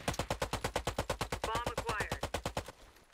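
Rapid automatic rifle fire in Warface, a steady close burst of evenly spaced shots at about eight per second that runs for nearly three seconds and then stops, with a brief sweeping game sound in the middle.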